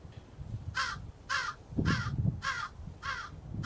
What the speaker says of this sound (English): Yes, Crow. Hello, I hear you.